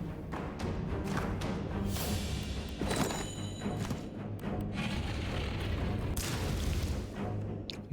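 A spell blast in the dungeon-crawling video game Desktop Dungeons, a dense rumbling boom with layered crackling debris that stays loud and sustained throughout, with no talk.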